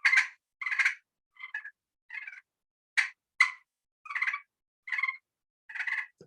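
A hand-operated turkey call imitates a hen's soft clucks and purrs in a sparse, close series of short bursts separated by silence.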